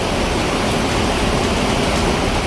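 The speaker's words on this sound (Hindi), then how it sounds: "हाईवे को निकलती ब्यास नदी की मचलती लहरों की यह तस्वीर देखिए" The swollen Beas river churns in flood across the washed-out Chandigarh-Manali four-lane highway, a loud, dense, continuous roar of rushing water that fills the whole moment without letup, close and overpowering, with no talking.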